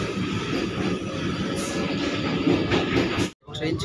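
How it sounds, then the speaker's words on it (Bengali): Vande Bharat Express departing Malda Town station, heard from inside the carriage as a steady rumbling roll with faint clicks, a brief dropout near the end, then the rumble resumes. "ট্রেন ছেড়ে দিয়েছে এখন মালদা টাউন স্টেশন থেকে"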